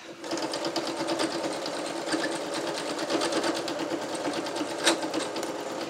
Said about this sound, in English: let's sew this part first